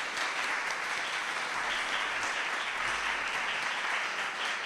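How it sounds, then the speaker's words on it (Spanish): An audience at a book presentation applauds in a dense, continuous wash of clapping that holds at an even level from start to finish. "Un aplauso para esta..."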